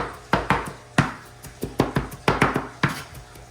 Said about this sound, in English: Slicing it up, chopping away.